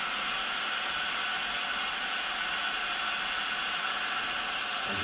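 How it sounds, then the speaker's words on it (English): A heat gun runs continuously, giving a steady, close, broadband airy whoosh with no pauses. "Then you've got your trusted heat gun. And what I do, I tend to just heat it at both ends"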